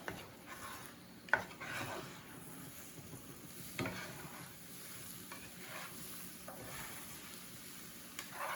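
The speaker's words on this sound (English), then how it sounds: "And I just keep stirring it up." Scrambled eggs with red peppers are stirred in a pan, a continuous soft sizzle of frying with scraping and tapping of a utensil against the pan, close and alone without speech.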